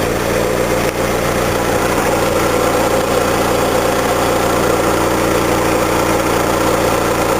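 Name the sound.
Honda Civic 2004 Si engine revving with gas pedal pressed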